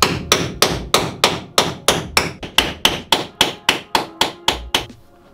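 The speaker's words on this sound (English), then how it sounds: "so I'm just going to try to chisel it off." A hammer drives a chisel against spot welds on a camper van's metal body panel, giving about sixteen sharp, ringing metallic strikes in a steady, evenly spaced rhythm, loud and close, with no talk.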